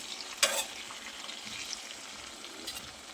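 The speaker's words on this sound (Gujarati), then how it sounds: "આપણે આને ઉલટતા દઈશું અને સરસ ફ્રાય થવા દેવાની છે તેલમાં" Tomatoes frying in oil for a raw mango and tomato chutney, a quiet steady sizzle with one brief scrape as they are turned and a faint later clink, near but low in level, no talking.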